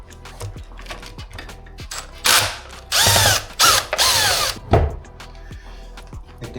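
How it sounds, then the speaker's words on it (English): An offset drill whirs in several short bursts, rising and falling in pitch, close by, with clicks and handling noises around it. "You ever seen an offset drill?"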